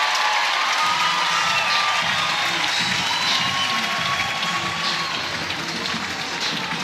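A sellout softball stadium crowd at an Oklahoma versus Texas women's game roars and cheers in a continuous loud wash of noise, with scattered clapping and shouts mixed in and faint talk underneath.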